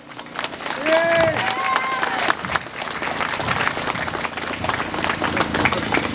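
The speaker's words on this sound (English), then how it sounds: "Give him a big welcome, a big clap, Bill the Boss, Joyce." Applause and cheering from an outdoor political crowd in Dublin greet a speaker, steady clapping filling the space with a few whistles near the start, voices over it, dense and sustained to the end.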